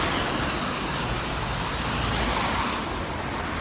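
Cars passing on a wet street on a rainy day, a steady broadband wash of road and tyre noise that stays constant and fairly close throughout, with no voices.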